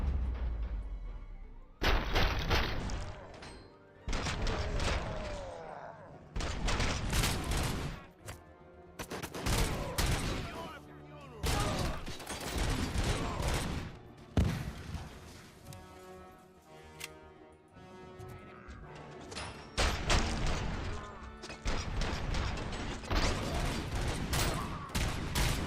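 Gunfire in the RoboCop video game, repeated loud volleys and rapid bursts separated by brief lulls, dense and close, with game soundtrack beneath and occasional talk.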